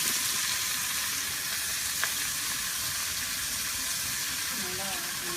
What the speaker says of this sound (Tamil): ஒரு மீடியமாக வச்சு நல்லா வதக்குங்க